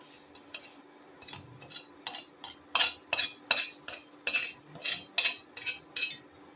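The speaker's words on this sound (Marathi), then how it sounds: "आता ते मी आता मिक्सरच्या भांड्यात काढत आहे." Roasted dried red chillies are scraped from a pan into a mixer jar with a metal utensil, giving a series of quiet, rhythmic scraping and clinking strokes, faint and close.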